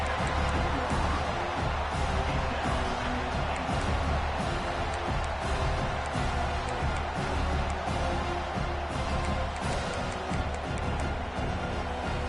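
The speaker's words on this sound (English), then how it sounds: "the crowd gets really cranked up" A big football stadium crowd roars steadily near the goal line, a dense, continuous wall of cheering and noise that never lets up.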